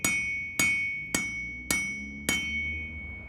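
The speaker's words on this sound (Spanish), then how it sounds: "Golpes y más golpes." Five evenly spaced, sharp hammer blows on metal, each ringing out with a bright metallic tone that fades before the next strike, close and alone.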